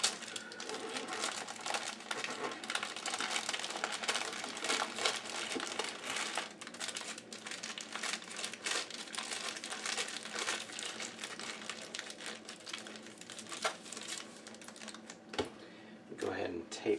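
Aluminium foil crinkling and crackling as it is wrapped around a rolled tie-dye bundle, a steady run of close, crisp rustles and crunches, while a person talks throughout.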